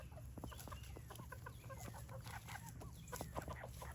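Meyer and Orpington hens clucking in a farm yard, a steady run of short soft clucks and murmurs from several birds close by, quiet overall with no talking.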